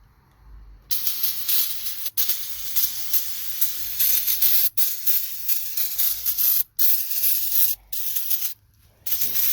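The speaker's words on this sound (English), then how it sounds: "So first thing we do is we're going to spray it." Cleaner sprayed onto a brand new turbocharger on a makeshift table behind a garage: bursts of sharp aerosol hiss with short pauses between them, close and loud, no voices.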